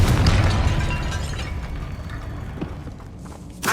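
A fiery Confringo blast spell goes off in Hogwarts Legacy inside a tomb, a loud booming burst that rumbles and decays over a few seconds, ending with a sharp second crack.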